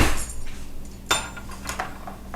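A tablespoon clinks against other cutlery in a kitchen while a low-carb cheesecake is being made, with a few sharp metallic clinks and rattles spread across about two seconds.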